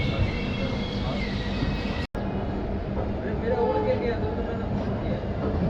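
The Ranchi-Howrah Shatabdi Express pulls out of Dhanbad Junction, a steady rolling rumble of the train carriage heard from inside, continuous with a brief dropout.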